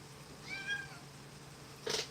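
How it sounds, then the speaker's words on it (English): Pumpkin the cat meows twice indoors, a drawn-out rising-falling meow followed by a shorter, sharper one near the end. Both are faint to moderate against a quiet background hum. "That's a pumpkin meowing."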